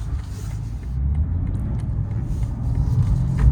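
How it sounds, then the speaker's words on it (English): A 2024 BMW M2 with a manual gearbox driving along and blipping its engine to match revs on a downshift, heard as a steady low engine rumble from inside the car that swells slightly toward the end. "the car automatically rev matches for you"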